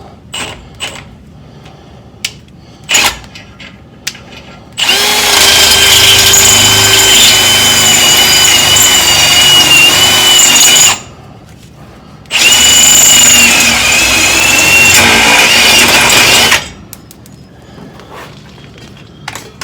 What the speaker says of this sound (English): I just grabbed a Unibit so I can make the hole as large as necessary